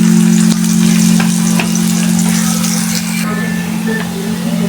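Chopped onion fries in hot oil with a dense, constant sizzle and occasional stirring clicks, close and loud for several seconds, easing slightly toward the end.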